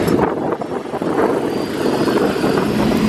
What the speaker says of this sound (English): Helicopter is here.